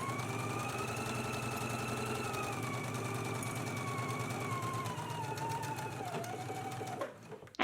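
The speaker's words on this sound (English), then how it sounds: "then we can stitch in a 5/8 inch seam allowance" A sewing machine stitches the side seams of a dress in one long continuous run, its motor humming steadily and close, with a faint tonal whine drifting lower and a stop at the end.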